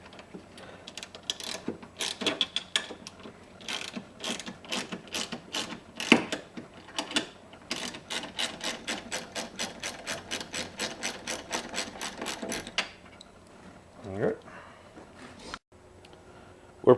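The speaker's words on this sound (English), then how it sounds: "we like to hear the clicking of the ratchets." Hand ratchet wrench clicking in quick, even bursts of many sharp ticks while strut tower bolts are loosened on a car during strut spring replacement, close and fairly faint, with short pauses and a few metallic knocks.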